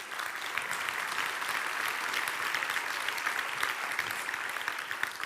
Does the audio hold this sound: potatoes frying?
no